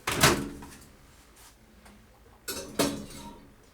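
Halloween bake going into a home oven: a sharp clunk of the oven door or rack, a quiet pause, then two more clanks as the door shuts, close and fairly loud with no talking.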